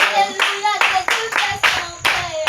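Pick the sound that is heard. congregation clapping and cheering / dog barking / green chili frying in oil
congregation clapping and cheering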